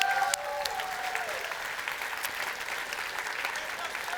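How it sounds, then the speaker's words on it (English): Audience applause at a Roblox developer conference keynote, a steady broadband clapping wash that holds at an even level for the whole stretch, with brief voice traces at the very start. "We can applaud the UGC takeover."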